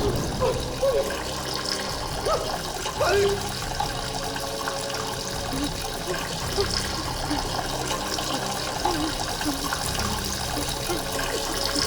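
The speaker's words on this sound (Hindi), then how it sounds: "पानी बंद करो" Water runs steadily from a tap, a continuous splashing flow that lasts throughout, with faint voices and scattered sounds underneath.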